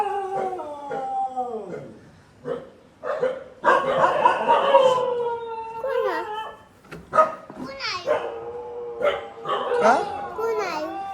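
A dog outside a farmhouse gives drawn-out howls and yelps in uneven bursts, close and fairly loud. A voice and other people's speech mix in between the calls.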